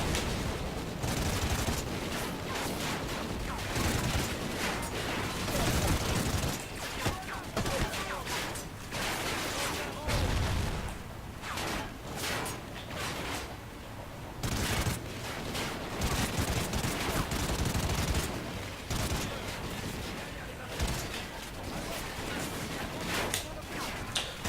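Sustained machine gun fire in a Call of Duty: Ghosts campaign mission, dense continuous bursts of automatic gunfire and explosions filling the whole stretch, with someone talking over the battle at times.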